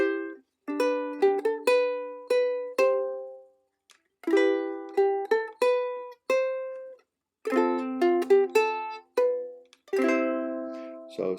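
Ukulele fingerstyle melody of a song, plucked single notes and small chord clusters in slow phrases with pauses between, clean and close with no talking.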